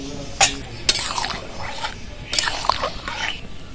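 Moong dal with bottle gourd being stirred in a pot, with a few sharp clinks of a spoon against the metal and soft wet squishing between them, close and moderately quiet.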